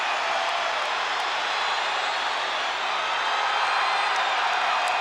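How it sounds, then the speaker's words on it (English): A capacity crowd at a wrestling event roars in a steady, hissing wall of cheering that holds loud and unbroken throughout, distant and massed rather than individual voices. "This capacity crowd has come alive."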